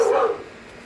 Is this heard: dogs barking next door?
yes